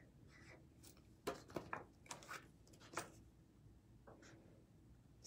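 Pen or pencil writing the date on paper, a few quick scratchy strokes in short bursts close by, with brief pauses between them in an otherwise quiet room.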